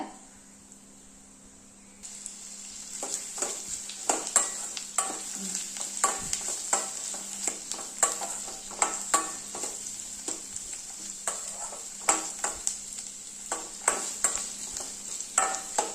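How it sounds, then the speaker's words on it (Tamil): Onions sizzle in a pan for tomato chutney while a spoon stirs and scrapes, giving repeated sharp clicks over a steady frying hiss after a quiet start. "போட்டு நல்லா வதக்குங்க."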